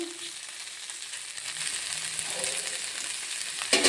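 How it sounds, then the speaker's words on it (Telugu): Okra fries in oil with ginger garlic paste, a continuous close sizzle and crackle with faint stirring, growing slightly louder toward the end. "ఆయిల్లో అల్లం అల్లం వెల్లుల్లి పేస్ట్ వేసాను కదా ఇంకొక ఒక టూ మినిట్స్ ఆయిల్లో ఉడకాలి"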